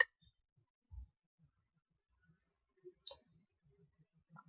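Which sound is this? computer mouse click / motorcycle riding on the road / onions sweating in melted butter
computer mouse click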